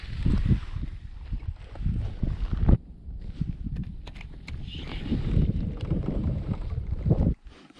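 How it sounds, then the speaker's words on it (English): Wind blowing and gusting over a lake after a storm, a loud rough rumble that rises and falls in buffeting gusts with brief lulls, close to the microphone. "This wind can't make up its mind."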